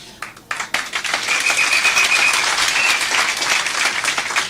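Audience at a SAPS Comrades Marathon awards ceremony breaks into applause, a few scattered claps quickly swelling into a dense, loud, sustained round of clapping from many people.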